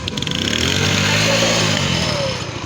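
A motorcycle engine revs up during a riding lesson, a rising buzzy whine that swells and then eases off over a couple of seconds, close by with no speech over it.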